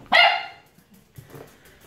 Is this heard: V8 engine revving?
no